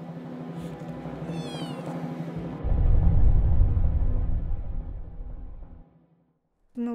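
Cats meow loudly several times, the calls rising and falling, over a rumbling background that drops away into near silence before one last sharp meow at the very end.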